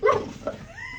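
A pet dog gives one short, high yip-like bark on the command to speak, followed by a faint whine. The sound is close and brief.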